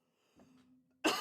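A single sharp cough bursts out near the end, loud and close, after a stretch of faint low murmuring.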